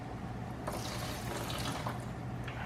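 Brake cleaner blasting in a steady hissing spray onto a welded differential, a continuous close wet rush lasting the whole moment with slight surges.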